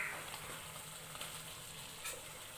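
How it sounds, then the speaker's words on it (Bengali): Fried potatoes sautéing with spice masala for an aloo paneer dish, a soft continuous sizzle at low volume with faint stirring and no talk. "আলু দিয়েও 2 মিনিট কষিয়ে নেব মশলার সাথে"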